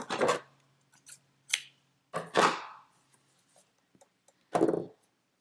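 Scissors snip a yarn tail on a crocheted amigurumi: a few sharp, close cuts and rustles spaced irregularly apart, with quiet gaps between them and no speech.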